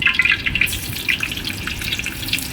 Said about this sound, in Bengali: তেলে আমার মেয়ে পানি ছিটে দিয়ে দিয়েছি, তাই তেলগুলো এরকম বরকেছে